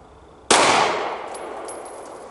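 A single sharp Sig P320X pistol shot on an outdoor range, one loud crack with a ringing metallic clang off a steel target, then a long fading tail of echo and ring-out.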